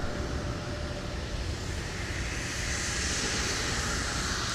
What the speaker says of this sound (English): So here's our CRJ that is now on taxiway Whiskey.